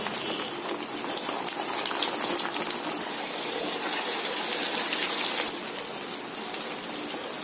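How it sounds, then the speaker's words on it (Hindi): Chicken macaroni rolls frying in hot oil in a wok, giving a steady, loud, hissing sizzle with dense crackle that holds throughout. "एक कढ़ाई में हमने यहाँ तेल को गरम कर लिया है। अब बड़ी सावधानी से ये रोल्स को डालेंगे।"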